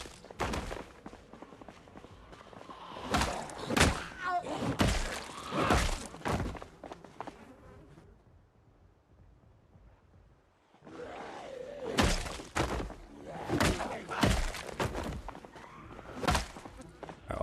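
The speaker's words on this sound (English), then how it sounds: "I was hoping to go around that way to stop them thumping on the fence" Zombies thump and bang against a fence in the video game Project Zomboid, a series of loud, irregular heavy impacts in two clusters separated by a quieter lull.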